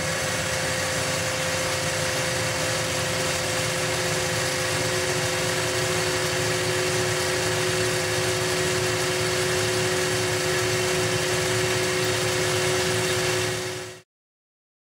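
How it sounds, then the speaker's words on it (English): A lathe centre drilling a workpiece makes a steady, whirring drone with a constant high whine, running without pause for about fourteen seconds, then cutting off abruptly. "So I'll centre drill that first."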